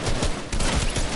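Rapid gunfire bursts from a pistol in a multiplayer shooter video game, loud and close, a dense rattle of several quick shots packed into about a second.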